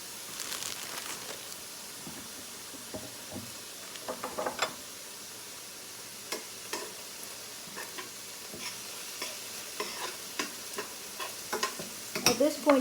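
Vegetables sautéing in a pan for spinach burritos, a low steady sizzle with scattered scrapes and clicks of stirring that grow busier toward the end, fairly quiet and close with no talking.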